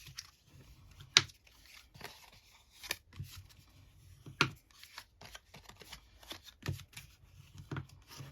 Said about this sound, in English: we're gonna fold and burnish all these